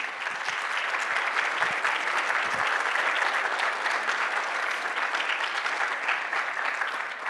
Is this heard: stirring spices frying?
no